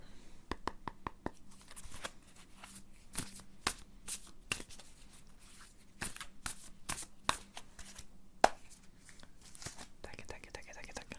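Tarot cards being shuffled, a quiet, close run of crisp riffling and slapping bursts in irregular clusters, with soft whispering between them.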